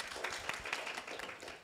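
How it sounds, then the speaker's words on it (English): Audience applause at a wildlife biodiversity conservation symposium: a faint, steady patter of many hands clapping across the whole stretch, heard from a distance in a hall. "Let's give a round of applause."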